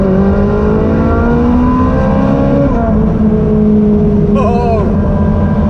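A Shelby GT350 engine revs in Las Vegas with a loud, continuous droning roar. Its pitch climbs slowly, dips, then rises again in a brief higher rev near the end.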